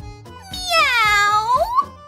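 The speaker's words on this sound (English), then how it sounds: "Meow!" A cat gives one long, drawn-out meow with a rising and falling pitch, loud and close, preceded by a few soft low thumps.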